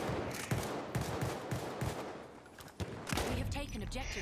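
Battlefield 1 gunfire: repeated sharp shots in a rough rhythm, fairly quiet and mixed with players talking.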